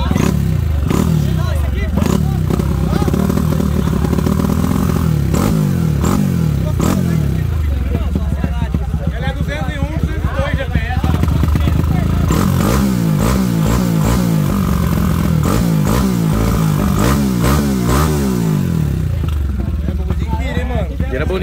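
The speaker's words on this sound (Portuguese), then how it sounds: "as motos que girou bonito mesmo foi uma 150." Several motorcycles, one of them a 150 cc bike, rev hard at a motorcycle workshop, their engines rising and falling in repeated loud bursts with clattering while people talk over the noise.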